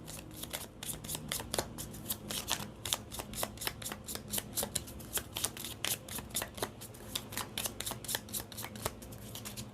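A Cigano tarot deck is shuffled in a long run of quick, crisp riffling bursts, close and fairly loud, with no voices.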